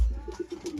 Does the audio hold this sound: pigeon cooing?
yes